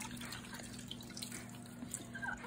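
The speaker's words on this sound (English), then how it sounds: "I am going to go ahead and wash my jars here." Glass canning jars being washed by hand under a running tap, a steady stream of water with faint splashes and clinks continuing throughout.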